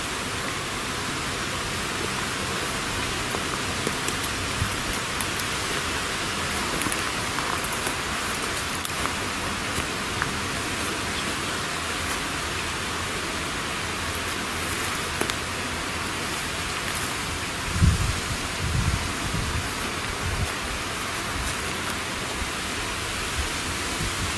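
Light rain falls at night in an abandoned cemetery, a steady, even hiss of drizzle throughout with scattered faint drips and one brief thump partway through.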